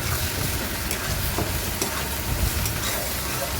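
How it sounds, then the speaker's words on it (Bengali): Onion, garlic and cumin pastes with turmeric and dried chilli powder fry in oil while being stirred, making a dense, loud, unbroken sizzle with faint scraping underneath. "একটু ভালোভাবে মশলাটা নেড়ে চেড়ে কষিয়ে নিচ্ছি।"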